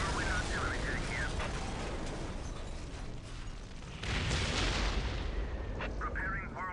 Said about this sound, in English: Preparing whirlwind missile battery to fire.